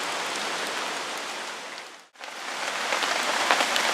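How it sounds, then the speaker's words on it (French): Steady rain drums on camp tarps at a bushcraft bivouac, a dense, continuous hiss of drops that briefly dips to near silence midway before returning slightly louder. "Il pleut toujours, alors il pleut même encore bien"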